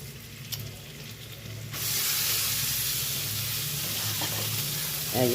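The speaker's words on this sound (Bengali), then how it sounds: "আলুগুলো ভাজা হয়ে গেছে" Potatoes frying in a pan, where a quieter background suddenly gives way to a loud, steady, close sizzle that hisses on to the end.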